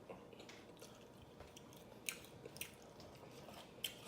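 Close, faint chewing of fried okra from Captain D's, with soft squishy bites and a few sharper crunchy clicks over a steady low hiss, no talk.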